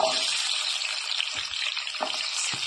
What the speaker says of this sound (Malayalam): അതിലേക്ക് വെളിച്ചെണ്ണ ഒഴിച്ച് ചൂടായി വരുന്ന സമയം നമ്മൾ എടുത്ത് വെച്ച കറാമ്പൂവ്, പട്ട, ഏലക്ക